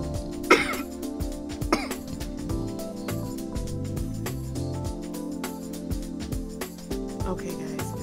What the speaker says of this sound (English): I'm like starting to really cough.